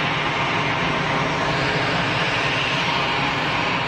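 A Boeing 737-600 jet airliner at Geneva Airport gives a steady, broad engine roar that holds at a constant, fairly loud level throughout, with no voices.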